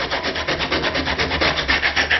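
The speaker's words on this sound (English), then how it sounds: "This is 36 grit sandpaper." Hand sanding a bonding surface with 36 grit sandpaper: loud, close, rhythmic back-and-forth rasping strokes at a quick even pace, repeating continuously with no talk.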